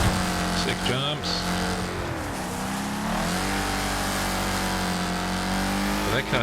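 A race car engine in the game Wreckfest drones steadily with pitch swells as it revs and shifts, continuous and fairly loud, with some talk mixed in.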